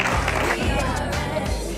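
An awards event audience claps and applauds in a dense, continuous wash of hands, close and steady, with a voice faintly over the crowd.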